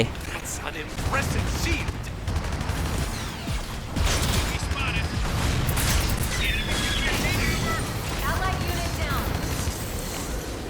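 Cannon fire in a Gundam video game lands as repeated blasts and crashing impacts amid dense mechanical clatter, loud and continuous under game noise.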